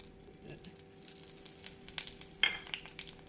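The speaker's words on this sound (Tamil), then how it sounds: "இப்பொழுது நாம் தாளிப்பதற்கு எடுத்து வைத்த கடுகு, உளுந்து, ஜீரகம், மிளகு, காய்ந்த மிளகாயை போட வேண்டும்." Mustard seeds, urad dal, cumin, black pepper and dried red chilies sizzle in hot oil for tempering a traditional garlic gravy, a soft steady crackle with faint pops and a few sharper spits.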